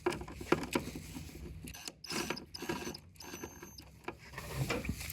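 A ratchet on a wobble extension works a bolt loose in the engine bay of a 2013-2016 Dodge Dart: repeated quick clicking bursts with pauses between strokes, close and fairly quiet, no talking.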